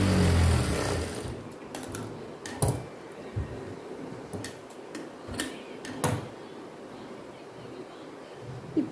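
A sewing machine top-stitches a girl's silk skirt, giving short bursts of rapid ticking stitches close by, separated by quiet pauses.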